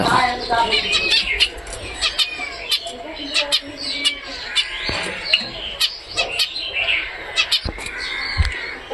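Pet finches and java sparrows chirp in quick, overlapping bursts, a dense run of sharp tweets close by with a voice talking underneath at times.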